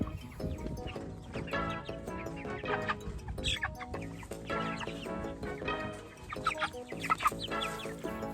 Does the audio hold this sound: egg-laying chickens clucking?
yes